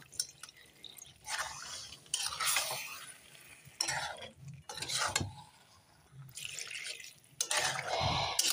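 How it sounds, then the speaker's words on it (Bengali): Water poured in bursts into a pan of cooked-down chicken curry, splashing and bubbling in several separate pours between quieter gaps, with spoon stirring and light clinks nearby, no talking. "এখন হালকা জল দিয়ে দিব অল্প।"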